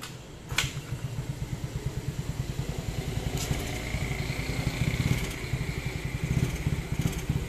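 A Yamaha Mio Amore scooter with its stock carburetor idles steadily up close, a fast, even putter with light ticking on top that holds for the whole stretch.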